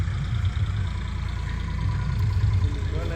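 A tractor engine runs nearby in a village yard with a steady, loud low-pitched drone that holds evenly throughout without revving.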